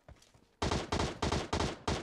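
Automatic rifle fire in PUBG Mobile rattles out in five loud, evenly spaced bursts after a short stretch of faint movement sounds, with no voices heard.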